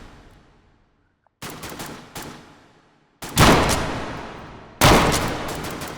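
Gunfire in the H3VR virtual reality shooting game: a single report, then another shortly after, then two heavier bursts of rapid shots, each ringing and decaying in the room, with no speech.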